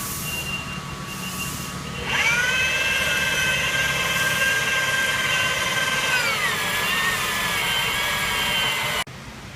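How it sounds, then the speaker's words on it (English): An oiled stud cutter bites through a stud in a casing, producing a steady, loud metallic whine with a sustained pitch that dips slightly partway through before stopping sharply. "Put a little more oil on the cutter and on the cutting surface, and we'll continue cutting through the stud."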